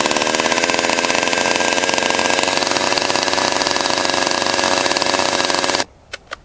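A top handle chainsaw, an old Stihl fitted with a new piston, started on full choke, roars loudly and steadily at close range with a fast rattling idle, then cuts off abruptly and sputters with a couple of brief pops.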